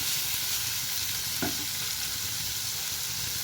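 Small cauliflower pieces sizzle in a pan with browned onions, a steady dense frying hiss with one brief clatter of a spoon partway through.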